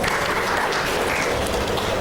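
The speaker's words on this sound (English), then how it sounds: "A big applause." Dense, steady applause from a panel discussion audience, loud and continuous throughout.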